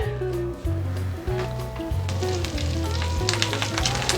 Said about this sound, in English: while all that stuff's cooking up in the pan